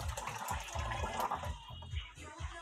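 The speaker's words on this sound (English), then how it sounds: "let me rinse my" Tap water runs steadily while hands are rinsed under it during meat ceviche preparation, close and fairly quiet, with soft splashing pulses and no speech.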